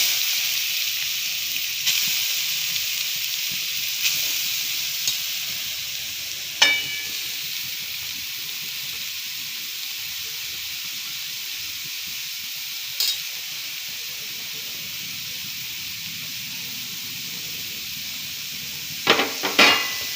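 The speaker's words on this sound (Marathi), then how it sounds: "आता आपण गाजर घालू याच्यात भाजायला भाजायचं म्हणजे थोडंसं परतून घ्यायचं आहे" Grated carrots sauté in a little ghee for carrot halwa, producing a continuous, fairly loud hiss with a few sharp clinks of a utensil against the pan.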